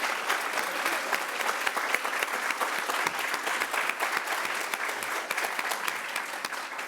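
A crowd at a university college honors day ceremony applauds its award recipients, with dense, steady clapping sustained at an even level for the whole stretch.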